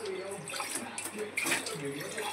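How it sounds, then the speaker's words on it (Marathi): Water poured into a cooking pot of Malvani-style taro leaves before pressure cooking, a steady splashing, trickling flow that stays close and fairly even throughout with faint voice in the background. "थोडंसं आपल्याला पाणी पण ॲड करावं लागेल,"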